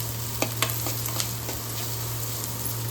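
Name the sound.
onion and chili sautéing in pan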